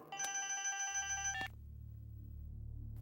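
A telephone rings loudly and electronically in a Hindi-dubbed film scene, one bright repeated tone burst that cuts off abruptly partway through, leaving a low steady hum afterward.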